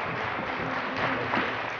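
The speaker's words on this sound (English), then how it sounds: "Please, a round of applause." Steady applause from a crowd at a women's bikini competition, a dense wash of clapping holding at an even level throughout with no talking over it.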